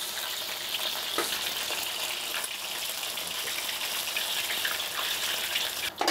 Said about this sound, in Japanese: 最初の油の音よりも全然もう静かになってきたと思います